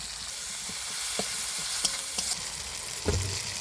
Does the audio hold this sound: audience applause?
no